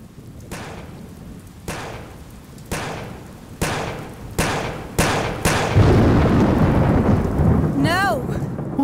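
Thunder rolls in the Yakuza 1 video game during a rainstorm, a series of sharp cracks about a second apart that build into a loud, continuous rumble over steady rain.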